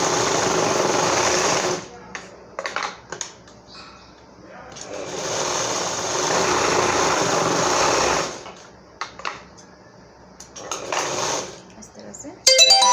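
A sewing machine stitches straight seams on a designer blouse in loud, steady runs of a few seconds each, broken by short pauses and handling clatter, with a voice talking in the gaps.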